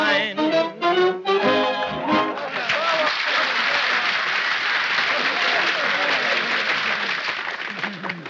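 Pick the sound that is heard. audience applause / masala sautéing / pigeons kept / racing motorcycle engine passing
audience applause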